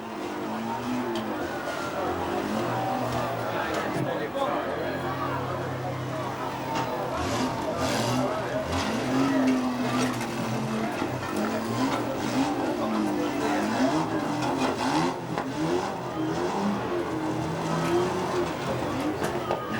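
Unlimited banger race car circling Ringwood Raceway with no rear wheel, engine roaring and tires scraping in continuous loud racing noise, with crowd and commentary-like voices mixed throughout.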